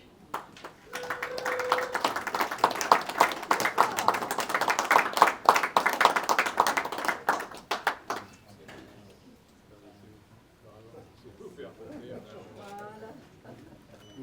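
A graduation ceremony audience claps for a graduate in a burst of brisk, moderately loud applause lasting about eight seconds, then it stops abruptly and a voice speaks over a quiet room.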